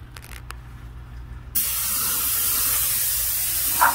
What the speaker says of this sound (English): So I'm going to go ahead and get this whole thing coated.